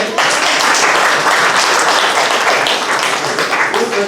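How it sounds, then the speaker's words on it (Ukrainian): Dense, steady applause from a crowd at a Shargorod city council ceremony, loud and continuous throughout with no pauses. "Оплески"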